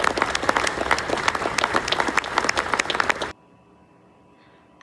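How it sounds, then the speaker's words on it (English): An audience at a Veterans Day parade event applauds in a dense, lively burst of clapping for about three seconds, then cuts off abruptly into near silence. "They deserve a round of applause for their sacrifice for us."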